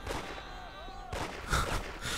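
Sharp bursts of video game gunfire crack out over a busy backdrop of voices and tonal game audio, with a louder burst midway.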